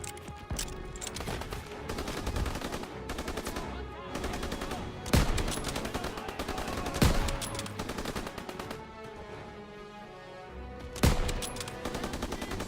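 Sustained gunfire in Call of Duty: WWII, a dense, steady rattle of automatic weapons running throughout, with several louder sharp shots standing out near the middle and end, under faint voices.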